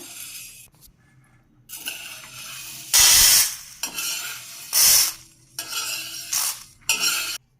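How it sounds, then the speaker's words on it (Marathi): Dry green gram rattles and scrapes against a pan as it is dry-roasted and stirred, in loud, close bursts separated by short quiet gaps. "थोडेसे लालसर होईपर्यंत मूग भाजून घेऊया"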